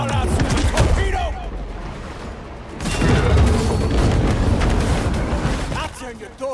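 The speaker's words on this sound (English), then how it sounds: "Getting y'all out with a torpedo!" A torpedo explosion in a video game, a deep booming blast with a rumbling water-churning roar that swells and holds for several seconds, mixed with game effects and voices.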